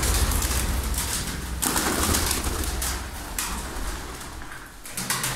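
Pigeons coo steadily at close range in a loft holding a large mixed flock of Malatya, wing-marked and double-crested birds, with a busy, rustling background and no talking.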